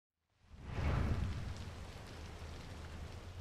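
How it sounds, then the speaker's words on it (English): Steady rain in the Forza Horizon 2 racing game, a dense broadband wash that swells in after a brief silence and holds evenly, with a low rumble underneath and no voices. "I think I'll wait until the rain lets up before I continue"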